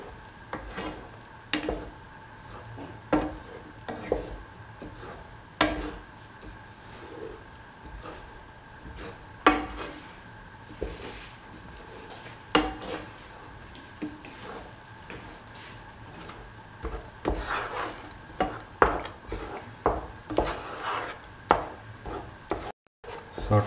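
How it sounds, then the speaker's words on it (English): Bananas are stirred into a coconut cumin mixture in a pan for an Onam dish, heard as repeated scraping and tapping of a spoon against the pan at a steady, uneven rhythm, close and moderately loud. "Mix the bananas in the mixture."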